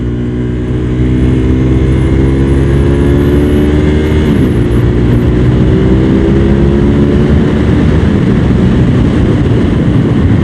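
A Suzuki TL1000R V-twin superbike accelerates hard, its loud engine note climbing steadily through the gears with a brief dip at a shift, sustained and close throughout.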